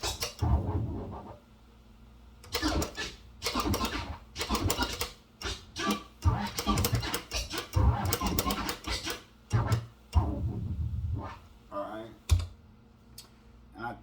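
Fast orbit scratching on a DJ turntable, with rapid bursts of clipped record strokes in quick repeated phrases separated by brief gaps, close and prominent, with no one talking over it.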